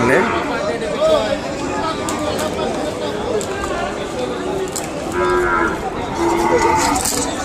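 Ongole bulls moo repeatedly at a busy outdoor cattle market in Kodada, with long low calls rising over a constant hubbub of crowd chatter and people talking nearby.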